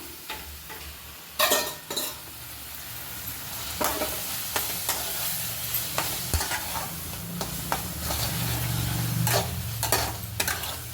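Brinjal and masala sautéing in oil for a thokku, a steady close sizzle broken by repeated scraping and clattering of a ladle stirring in the pan, with no talking.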